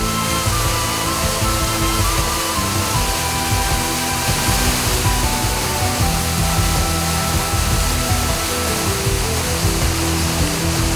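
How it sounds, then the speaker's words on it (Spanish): Broad, steady roar of a waterfall in Bolivia, heard close by as continuous loud rushing water with no pauses or speech. "bajaremos al lado de la cascada"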